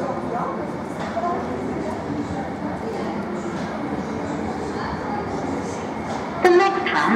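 A Midland Metro tram coming in from Library to Grand Central stop, a steady low rumble and hum of the approaching vehicle with station ambience and distant voices, ending in a brief louder burst.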